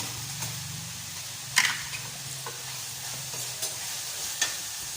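Seasoning and bouillon cubes frying and being stirred in a pan for lumpiang sariwa filling, a steady soft sizzle with a low hum beneath and a few sharp scraping clicks of the utensil.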